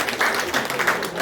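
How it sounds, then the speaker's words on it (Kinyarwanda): An audience at a community gathering breaks into a brief burst of scattered applause, with quick overlapping claps close by and a little crowd noise. "Mumwera amashyi."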